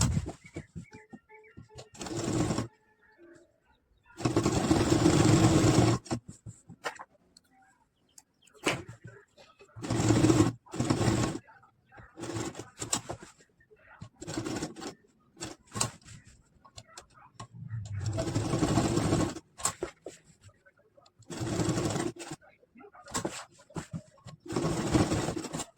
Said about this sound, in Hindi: दोस्तों चारों तरफ ये सिलाई मारेंगे।